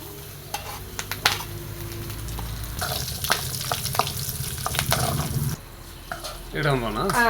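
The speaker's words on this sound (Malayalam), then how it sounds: "അപ്പം ഈ കരിവേപ്പിൻ്റെ ഇലയും മുളകും ഇട്ട് കൊടുക്കുക, ഉണക്കമുളക്." Curry leaves and dried red chillies drop into hot oil in a pan, giving a steady close sizzle and crackle with stirring scrapes and a few clinks of utensils throughout.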